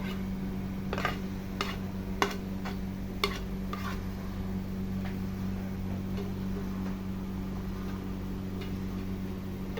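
Biko, sticky rice cooked with coconut, buko and butter, is stirred in a pan over very low heat, with scattered taps and scrapes of the spoon over a low, constant hum.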